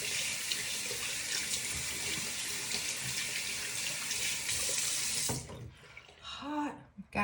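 Tap water runs steadily into a sink for hand washing, a loud close hiss that stops abruptly near the end, followed by a few brief voiced sounds.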